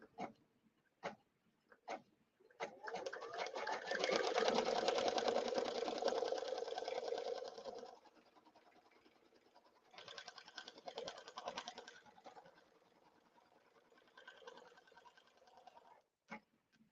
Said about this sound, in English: And I want to stitch those centering crosshairs.